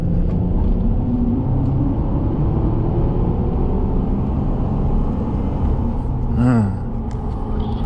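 A tuned Ford F150 EcoBoost pickup in sport mode accelerates from 0 to 60, a deep, steady rumbling engine drone heard from inside the cab, with a brief chirping sound near the end.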